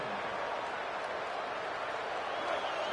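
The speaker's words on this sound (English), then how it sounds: "This crowd bringing the energy and noise early." Steady roar of a college football stadium crowd at LSU versus Oklahoma, loud and continuous wash of cheering noise with no breaks across the whole stretch.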